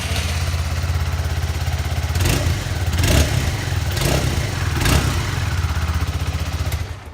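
Honda CBR125R 2017 motorcycle, a 125cc single-cylinder, idling close by with a fast, steady thrumming beat, then revved sharply four times in a row before settling back, loud and without talk.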